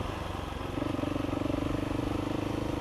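A Husqvarna 701e single-cylinder motorcycle chugs along while ridden, a close, steady low-rpm pulsing thump that firms up slightly partway through, with wind rush around it.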